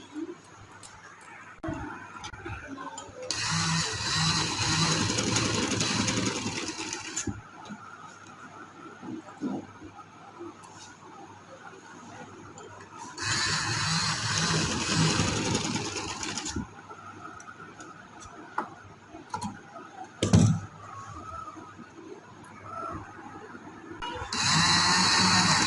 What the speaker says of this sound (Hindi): अब इसको डबल सिलाई लगा के इसको जोड़ लेंगे।